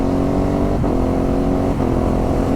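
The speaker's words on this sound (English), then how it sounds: "Here we go, listen to the exhaust." A Ducati Hypermotard 950 RVE motorcycle exhaust roars loud and close in a sustained rev, with two brief dips in pitch.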